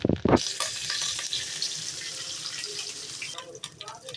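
Curry leaves tossed by the handful into hot oil with popped mustard seeds and dried red chillies set off a loud close burst of crackling, then a steady bright sizzle that fades slightly, with a voice speaking briefly.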